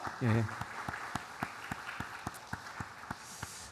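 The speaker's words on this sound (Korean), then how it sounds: "우리 박수로 환영합니다." Church congregation applauding to welcome a missionary during a Sunday morning service, soft scattered clapping spread through the room after a brief voice at the start, fairly quiet and sustained.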